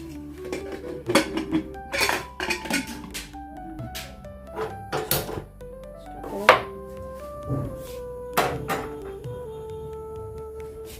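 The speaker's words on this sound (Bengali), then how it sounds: "প্রেসারে আমি সিদ্ধ বসিয়ে দিলাম" A metal pressure cooker is set up to boil kidney beans with water and salt: scattered clanks and knocks of pot and lid, close by, with quiet gaps between the bumps.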